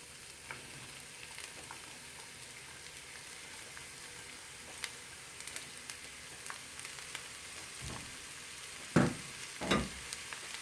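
Onions and peppers sauté in about two tablespoons of oil with a soft, steady sizzle, and a couple of louder spatula scrapes and knocks come near the end.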